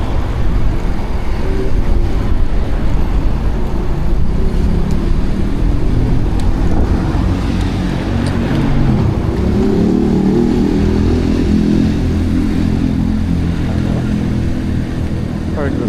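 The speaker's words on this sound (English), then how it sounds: "Get back with the traffic on the street." Street traffic in Sydney rolls past a moving e-bike, with engines rising and falling nearby and vehicles accelerating, while someone talks over the steady road noise.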